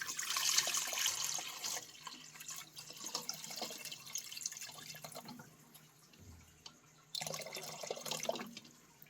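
Running water pours and splashes over eggs, including a turkey egg, in a container, steady with drips and a brief pause before the flow resumes, close and moderately loud.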